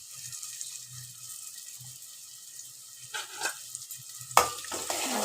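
Bitter gourd and onion fry stirred in a pan, with a soft steady sizzle, occasional low scrapes of the spoon, and a sharper clatter near the end.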